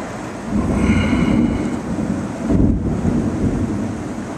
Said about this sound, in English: Got heavy rain and lightning.